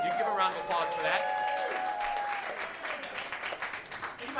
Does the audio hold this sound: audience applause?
yes